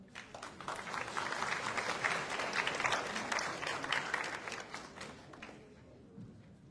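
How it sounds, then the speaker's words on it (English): An audience at a youth meeting breaks into sustained applause that swells, holds for several seconds, then fades out toward the end, moderately distant and soft. "let's give a big round of applause to all"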